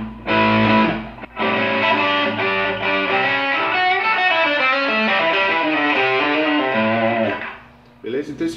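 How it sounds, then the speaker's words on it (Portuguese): Electric guitar played through a Boss Super Overdrive pedal with no EQ, a loud, sustained distorted riff of ringing chords and notes that drops out briefly near the start and fades at the end. "esse aqui é o som do Super Overdrive da Boss."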